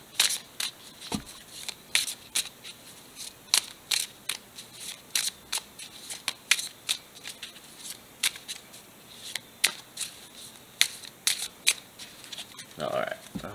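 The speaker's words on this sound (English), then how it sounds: "Let's get these cards shuffled up nice and good here." Pokemon trading cards are shuffled by hand, making a quick series of sharp, papery riffling flicks in an uneven rhythm, close and fairly quiet, with a brief rustle near the end.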